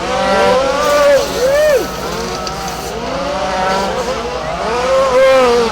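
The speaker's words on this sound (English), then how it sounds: "Phil Phillips trying to drift it around in front of the driver's stand" A rally car drifts around in front of the driver's stand at a rally race, its engine revving and wailing in rising and falling sweeps, loud and close, with an announcer talking over it.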